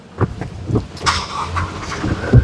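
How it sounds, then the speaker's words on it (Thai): A grey-black four-door lifted pickup with about 9,000 km on it starts up, its engine catching and idling at moderate distance with faint clicks before it. "เดี๋ยวขึ้นไปสตาร์ทรถให้ดู"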